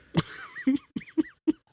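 A man coughs in a sharp, harsh burst followed by several shorter hacking coughs in quick succession, close and clear with brief pauses between them.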